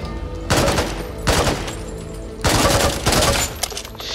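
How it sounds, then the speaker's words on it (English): Shotgun blasts from the video game Back 4 Blood, several heavy close bursts in irregular succession with brief pauses between, loud and dense with a rattling tail. "a good weapon that is for moving is shotguns"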